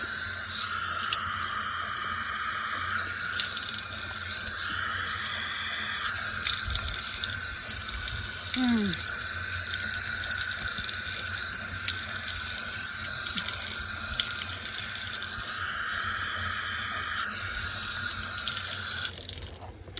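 Water runs steadily from a public drinking-water tap in Funchal, Madeira, a continuous close splashing stream with no talking.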